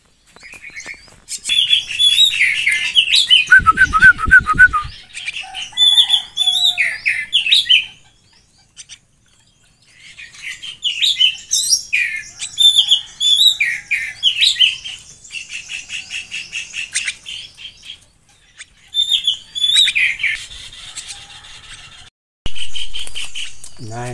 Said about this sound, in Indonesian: Oke, kita memberi makan burung perkutut.